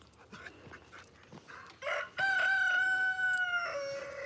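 Backyard chicken coop with chicks being raised: a rooster crows loudly and clearly in one long drawn-out call, preceded by softer clucks and scratchy fowl sounds nearby.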